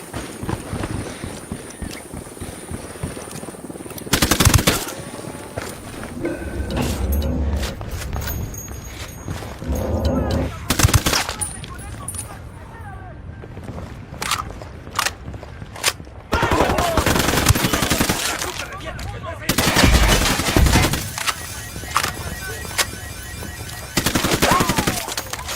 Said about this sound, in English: ¡Alguien nos está tirando a matar!